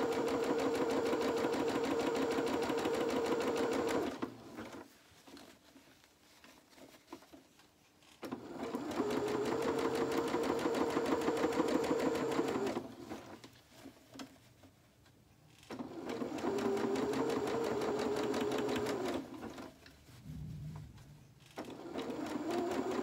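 A sewing machine stitches small boxer shorts for a Luna Lapin rabbit doll in three sustained runs of rapid, even whirring, each separated by a quiet pause, recorded close with no talking.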